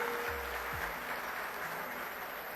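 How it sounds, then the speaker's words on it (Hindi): At a political rally, a crowd gives a steady wash of applause at moderate volume over a low, humming background, with no speech over it. "श्री सुशील गुप्ता जी, उनके लिए भी जोरदार तालियां।"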